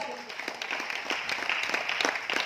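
Applause from an audience at a talk in Aurangabad, Maharashtra, moderately loud and steady, with scattered claps rising and continuing for a couple of seconds.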